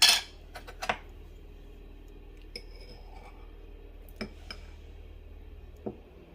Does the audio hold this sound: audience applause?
no